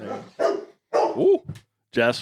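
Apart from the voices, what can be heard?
dog barking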